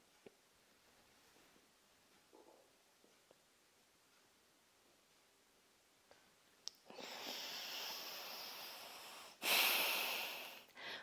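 Breathing during an abdominal and pelvic-floor exercise: faint soft breaths at first, then a long loud close-up exhale, a brief pause and a second strong breath near the end, with no talk.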